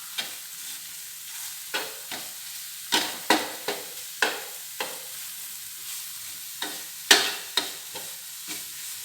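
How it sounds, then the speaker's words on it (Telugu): Eggs frying with salt in a pan, a soft constant sizzle broken by repeated scraping stirs of a spatula at irregular intervals, close and fairly quiet, with no talking. "ఇవన్నీ వేగనిద్దాం కాస్త."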